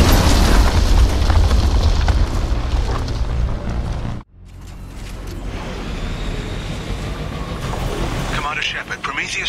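Loud booming explosions from the Geth cannon in the video game Mass Effect 2, a dense roaring blast that cuts off abruptly, then rumbling combat noise resumes with scattered bursts.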